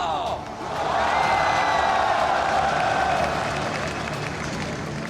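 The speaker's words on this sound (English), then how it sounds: "un tonnerre d'applaudissements pour Karsa!" Large arena crowd at an esports tournament final (League of Legends MSI 2018, Royal Never Give Up versus Kingzone) bursting into sustained applause and cheering, loud and continuous, swelling after a brief announcer voice at the start.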